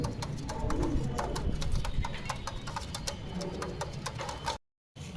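Madras pigeons, a male and a female, coo nearby with low throaty calls under scattered sharp clicks and taps, ending in a brief cut to silence.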